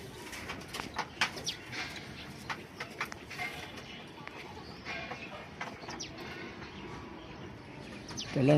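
Soft, low cooing of racing pigeons in the background amid a busy murmur, with occasional brief clicks and flutters, fairly faint.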